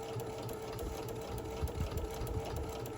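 A sewing machine runs steadily while stitching an iPad sleeve with Velcro, its close, continuous motor hum and rapid needle rhythm carrying on without a break for the whole stretch.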